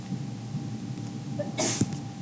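A single sharp sneeze bursts out near the end over a quiet classroom background, brief and close.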